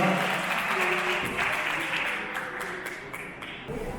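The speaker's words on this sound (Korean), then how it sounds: "큰 박수로 맞이해 주시기 바랍니다" Steady, dense applause from wedding guests fills a ceremony hall as the groom's father is welcomed to read a declaration. The clapping is continuous and fairly loud, easing slightly toward the end.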